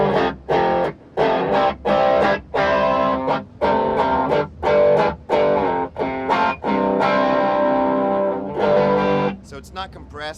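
An Electro-Harmonix pedal gives an amp-style cranked distortion to guitar chords, strummed in rhythmic bursts with short gaps between them, loud and upfront, with a voice talking over it.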